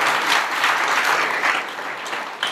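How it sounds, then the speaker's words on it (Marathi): An audience at a Buddha Purnima gathering claps loudly together, a dense, continuous round of applause that fades slightly near the end. "त्यांच्यासाठी थोडासा जोरदार टाळी वाजवा"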